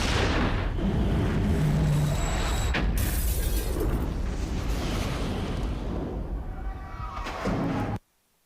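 An explosion goes off inside the Capitol building in news footage, a loud sustained blast roar with rumbling debris that fills the scene for about eight seconds before cutting off abruptly.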